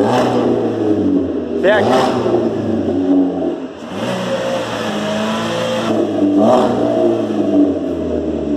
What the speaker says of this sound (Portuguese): Dá uma acelerada aí, né?